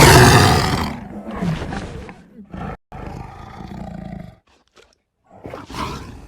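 A tiger from Google's 3D augmented reality animals lets out a loud, deep roar that tapers into rumbling growls and grunts, with short pauses and a final snarl.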